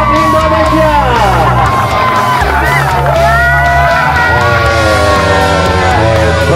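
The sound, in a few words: crowd applause and cheering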